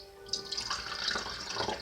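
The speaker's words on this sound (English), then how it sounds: "take your purified distilled water about halfway to the cup." Purified distilled water poured into a cup while mixing liquid soap, a steady faint trickle and splash with small bubbling surges, close and alone.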